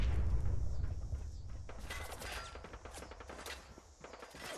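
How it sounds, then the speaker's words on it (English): Gunfire in Fallout 4, a dense fusillade of rapid shots and booms in a game firefight, loud and continuous, with no talk. "Who's shooting and where?"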